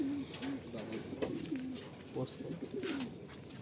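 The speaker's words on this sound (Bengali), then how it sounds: "এইদিকে উড়ানো পায়রা রয়েছে কিছু, এদিকে কিছু উড়ান পায়রা রয়েছে" Pigeons coo in a loft, with repeated low rolling calls that come in several bouts, moderately close and fairly faint over a soft background hiss.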